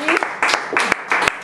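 Applause at a home makeover reveal finale, broken into short bursts of clapping with brief dips between them, close and fairly loud.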